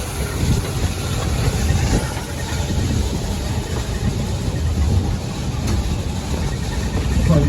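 Articulated geared steam locomotive running on a heritage logging railroad in a redwood forest setting, giving a steady, loud rumbling chug with continuous mechanical noise throughout and no talk.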